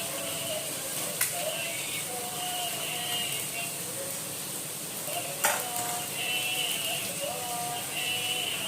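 An egg frying in a tava pan gives a steady, continuous sizzle with faint scrapes and two brief clicks of a utensil against the metal. The sizzle stays close and even throughout, and no voice is heard.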